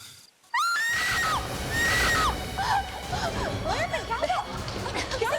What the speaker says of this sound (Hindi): चीखने की आवाज आई